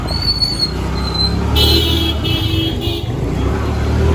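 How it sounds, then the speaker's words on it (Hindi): A road traffic jam in Silchar: a constant rumble of nearby engines, with a few brief high horn or whistle toots rising above it. "जाम है जाम भाई।"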